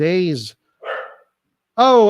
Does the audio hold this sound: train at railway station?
no